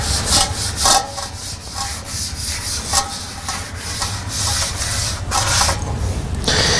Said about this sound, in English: you just start wiping it all over the place